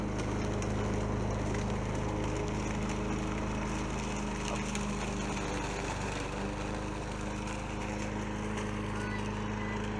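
A Black Max lawn mower runs steadily for the whole stretch, a loud continuous engine drone close by while it cuts around trees in a food forest garden.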